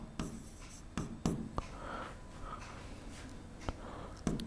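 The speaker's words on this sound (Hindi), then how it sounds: "मैं यहां पे लिखता हूं" Chalk or marker writing on a board during a chemistry lesson: scratchy strokes with sharp taps as each word is started, close and fairly quiet, with no talking over it.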